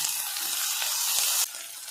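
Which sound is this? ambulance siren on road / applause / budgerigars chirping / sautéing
sautéing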